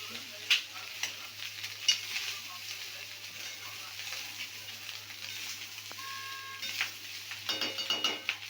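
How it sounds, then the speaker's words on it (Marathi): Schezwan fried rice with Schezwan chutney being stirred in a wok over a high gas flame, with soft scraping and a faint steady sizzle. "मग आता ते हलवायला लागतं चांगलं"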